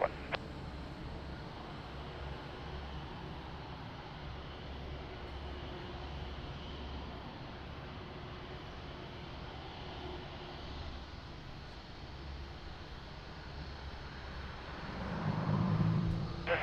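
An airliner takes off from runway 02 at Lisbon Airport, its engines a steady distant broadband roar that holds throughout and swells louder near the end.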